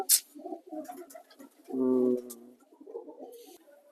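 A pigeon gives one deep, throaty coo in the middle, close and clear, between bursts of soft background chatter and rustling.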